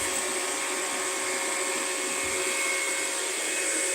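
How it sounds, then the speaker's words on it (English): A small electric motor hums steadily inside a home oil press machine used for pressing flaxseed oil, a constant whirring drone with a fan-like airflow, close and even throughout with no talking. "You can see that little motor in there."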